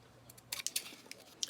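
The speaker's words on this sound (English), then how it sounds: "So I'm just lining my scissors up against the chipboard." Scissors make a few quick, crisp snips in close succession through chipboard, faint and sharp against near silence.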